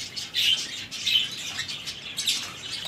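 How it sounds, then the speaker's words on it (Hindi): Pigeons let out of a cage in a home bird setup, a busy mix of chirps, squawks and wing flutters rising in several bursts over a steady background, nearby and with no talking. "सारे कबूतर वहाँ बाहर आ जाएंगे।"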